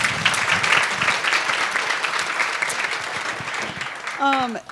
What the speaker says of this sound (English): Round of applause for Kim